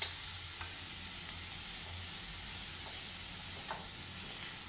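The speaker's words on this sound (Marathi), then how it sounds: "आता हा कांदा चांगला मऊ होईपर्यंत आपण परतून घेणार आहोत." Onion sizzles steadily in a pan with turmeric added, a constant frying hiss with a few soft scrapes of stirring, close and even throughout.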